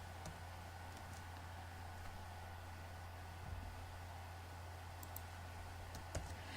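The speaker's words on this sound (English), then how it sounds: "And I'm typing its name on my relative URL." Quiet typing on a computer keyboard during a Windows Phone developer session, sparse soft key clicks scattered over a steady electrical hum and background hiss.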